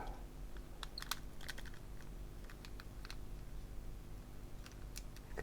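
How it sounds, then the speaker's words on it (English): Small plastic cracks and clicks while a Nintendo Switch is pried open for a charging repair, sharp scattered snaps over a steady low hum, close and fairly quiet. "Hear the plastic crunching."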